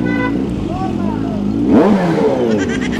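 A Kawasaki Z H2 supercharged motorcycle fitted with a red aftermarket exhaust idles under nearby talking, then gives a brief rev that rises and falls.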